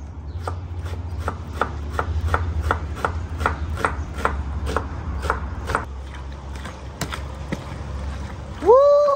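A knife chops onion for ceviche on a board in about a dozen steady, evenly spaced strokes, close and clear, then stops; a short voice-like sound comes near the end.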